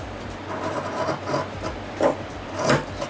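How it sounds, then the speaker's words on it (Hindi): Scissors cut a T-shirt fabric in one straight line, a dry rasping snip-and-slide repeated several times at close range, with sharper bursts near the end. "अब मैं मोड़ूंगी नहीं तो मैं इसको सीधा कट कर रही हूँ।"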